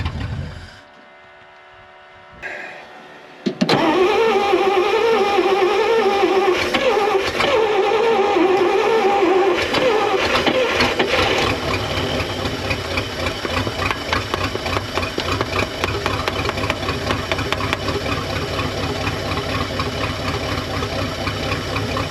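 An old Dodge Sweptline pickup truck engine, unrun for 25 years, roars to life after a brief crank, then settles into a steady, rumbling idle that continues loud and close throughout.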